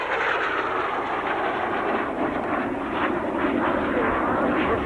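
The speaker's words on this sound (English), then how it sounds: "Rolf Bronkhorst, Iskra trainer here, is the second warbird that David Worthington has." A Czech-built Iskra jet trainer flying at an air show in Clark County, Indiana, its jet engine producing a loud, broad roaring rush that swells slightly as it passes, sustained and fairly close with no talk.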